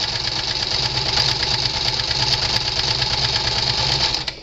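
A sewing machine stitches through a thick mini album cover, its motor whirring steadily with a fast, even needle rhythm for about four seconds, close and loud, before stopping abruptly.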